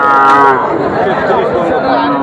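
A single long, loud moo from a nearby cow at a cattle market fills the moment, deep and drawn out over a low murmur of background noise.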